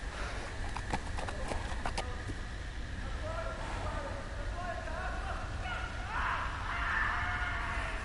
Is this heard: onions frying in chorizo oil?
no